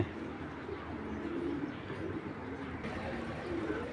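Giribaz pigeons coo in low, repeated murmurs over a constant rustling background, close by and moderately loud throughout.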